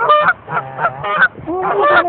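Geese being fed in Texas, honking loudly and close in a run of nasal, overlapping calls.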